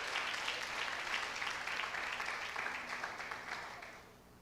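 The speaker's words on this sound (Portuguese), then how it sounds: "Dá uma salva de palmas para o Eduardo" A church congregation claps for Eduardo in a steady, moderately loud round of applause that thins out and fades toward the end.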